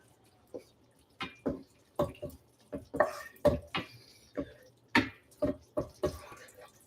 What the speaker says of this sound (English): We're going to strain it, because obviously cauliflower has a lot of water in it.